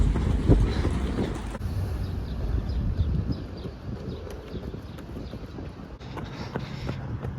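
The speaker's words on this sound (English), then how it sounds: "There's a train here." A train rolls past in Switzerland with a steady rumble and rhythmic clacking of wheels over the rails, fairly loud and close, gradually easing off.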